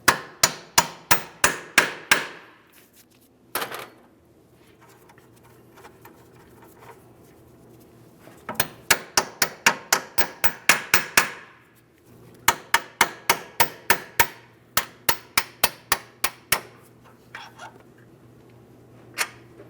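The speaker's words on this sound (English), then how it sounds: "Now we'll tap this out of position." Sharp hammer blows knock a rear upper control arm out of position on a 2005-2010 Chrysler 300, coming in quick bursts of ringing metallic taps separated by quiet pauses.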